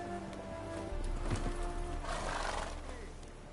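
Roach, a horse in The Witcher 3, whinnies loudly and trots with close clip-clopping hooves, with a louder neigh partway through and faint talk in the background.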